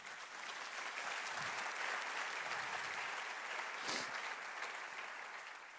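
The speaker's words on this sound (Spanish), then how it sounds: "Eso merece otro aplauso al Señor." Sustained applause from a church congregation during a sermon, dense and steady throughout with a small swell near the end, and no voices over it.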